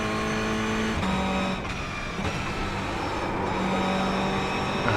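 Steady race car engine drone from the iRacing sim at Lime Rock Park in a production car, a sustained mid-revving hum with slight pitch shifts, close and continuous with no talking.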